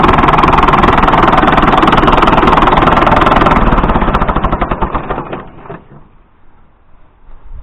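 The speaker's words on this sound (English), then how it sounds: "That sounds about like an old John Deere 730 diesel I used to have." An old Fordson Super Major tractor diesel engine runs loud and close with a rough, rapid knocking chug, then is shut off and winds down to quiet over the last few seconds.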